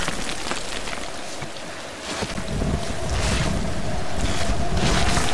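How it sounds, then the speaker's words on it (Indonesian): Heavy rain falls in the Tomb Raider video game, a loud, wide wash of noise with a windy edge that swells slightly toward the end, and no speech over it. "Hujan."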